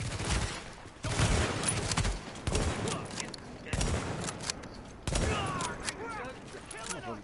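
Gunfire from a powerful weapon in the video game The Division crackles in rapid bursts, dense and loud, with a few pauses between volleys.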